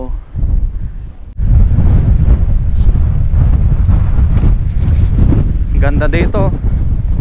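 Strong coastal wind buffets the microphone during a fishing outing at high tide, a loud continuous roaring rush, with a short spoken phrase near the end.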